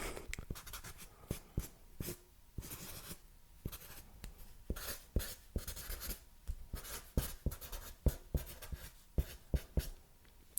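A pen scratches across paper in quick, uneven strokes and taps, close and fairly quiet, continuing with brief pauses.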